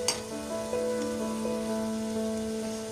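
Cabbage and onion pakoda frying in hot oil while being stirred gently, a steady close sizzle with soft crackles and occasional light clinks of the utensil.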